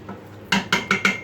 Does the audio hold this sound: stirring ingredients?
yes